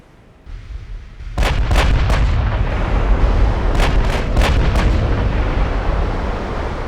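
Heavy naval guns firing in the warship game Ultimate Admiral: Dreadnoughts during a battle against the Bismarck, a sudden deep blast swelling into a sustained roar with several sharp cracking shots layered over the rumble.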